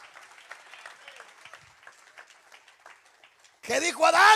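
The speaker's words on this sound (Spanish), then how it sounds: "Ese aplauso al Señor en esta hora." A church congregation breaks into loud, sustained applause near the end, after a stretch of a preacher's voice and faint background noise; the clapping is dense and close, swelling abruptly and continuing to the end.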